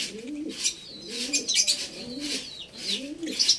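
Pet African lovebirds in a cage give soft, repeated chirps and cooing calls at close range. The bird sounds come in short bursts with small pauses between them, and the background is quiet.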